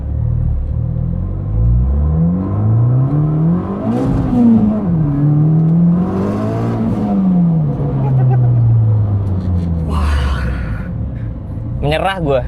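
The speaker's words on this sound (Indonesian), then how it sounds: "Gue tidak expect pernah bawa Jazz kayak gini tarikannya." A modified 480 HP Honda Jazz GE8 accelerating hard, its engine note rising and falling through repeated revving sweeps with a loud, continuous rumble and whir throughout, under voices heard inside the car.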